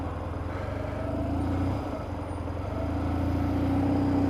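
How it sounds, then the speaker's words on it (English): A big truck driving past on the road, a steady loud engine rumble that dips briefly and then swells again as it goes by, heard from a motorcyclist's position. "Ooh, big truck."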